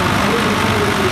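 A running diesel tractor engine at a plowing event, a steady low rumbling drone, close and loud, with no clear breaks over about a second.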